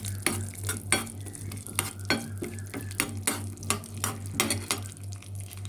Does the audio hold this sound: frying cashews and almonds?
yes